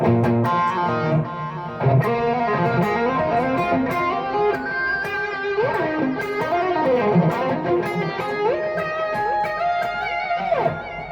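A distorted electric guitar solo through a BOSS ME-80 multi-effects unit plays alone, with bends and sliding runs over a sustained backing, loud and continuous.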